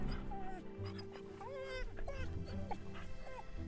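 A dog in the farming video game Farmer's Dynasty whimpers and yips in short high-pitched calls, moderately loud over a steady droning game soundtrack and low engine hum.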